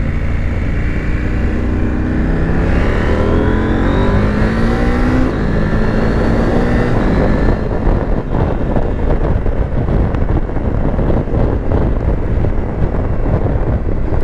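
A KTM 890 Adventure motorcycle accelerates hard, its engine note rising in pitch through several quick upshifts made with a quickshifter, each gear change a brief dip before climbing again, then a steady loud drone under heavy wind rush.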